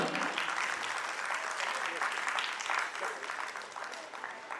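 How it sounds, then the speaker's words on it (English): An audience at a school annual function claps loudly and steadily, a dense crowd applause that keeps up without a break and thins slightly toward the end. "Let's give them a loudest clap."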